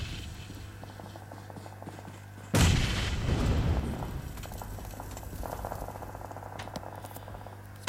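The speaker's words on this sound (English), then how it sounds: "That wasn't smoke, that was a nade" A grenade goes off in a video game match with a sudden loud blast, then rumbling debris and noise that decays slowly over several seconds.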